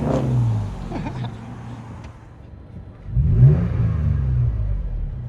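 Toyota Tacoma 4.0L V6 with an aftermarket exhaust, heard from inside the cab: a low engine drone that eases off, then swells with a rev into a deeper, louder rumble that holds steady.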